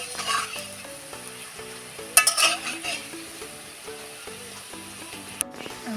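Bottle gourd fritters (bora) sizzle steadily in hot oil, with crackling and frying noise running throughout, a few louder bursts, and melodic background music playing underneath.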